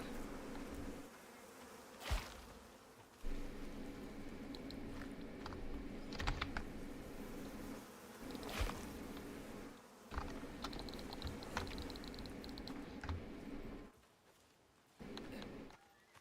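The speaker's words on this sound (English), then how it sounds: "I hear bees." Bees buzz steadily in the survival video game Icarus, a close, continuous insect drone layered over game ambience, with brief louder clicks and a quieter gap near the end.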